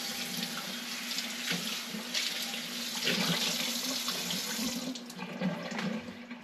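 Tap water runs steadily into a sink while a Wagner Ware cast iron skillet is rinsed, a continuous close splashing hiss with small shifts as the pan moves under the stream.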